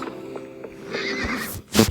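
A horse neighs loudly in a short whinny near the end of a video game, preceded by soft hoof clip-clops and quiet game ambience.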